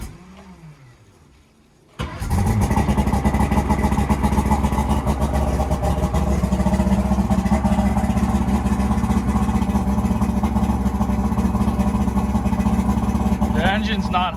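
A restored boat engine cranks and catches after a quiet start, then settles into a loud, steady idle that runs unbroken for the rest of the clip.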